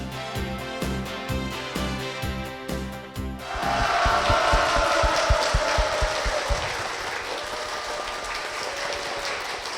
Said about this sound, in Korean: 뜨거운 박수로 시작을 했습니다